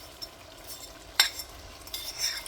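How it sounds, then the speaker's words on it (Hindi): Mashed potatoes are stirred into chickpeas frying in oil for chikar cholay, giving soft scraping stirs, one sharp utensil clink against the pan and a faint sizzle underneath. "अब ये मैश किए हुए आलू भी इसमें डाल देंगे।"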